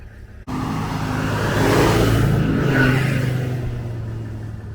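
An off-road jeep revs hard in deep, soft Sinai desert sand, its engine roaring steadily and loud for several seconds after a sudden start, with wheels spinning in place.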